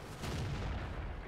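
Tank shell fire in World of Tanks: a single deep, booming shot with a rumbling low tail that lingers through the moment, moderately loud.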